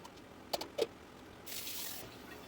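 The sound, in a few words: hot water running to rinse a container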